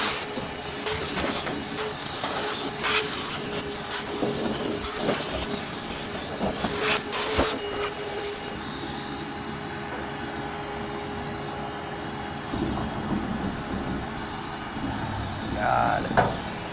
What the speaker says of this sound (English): I'm gonna vacuum while I let my fingers warm up.